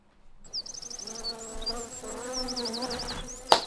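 A bumblebee buzzes in the Demon Slayer Hashira Training anime: a close, wavering drone fades in, warbles up and down for a few seconds, then ends with a sharp click.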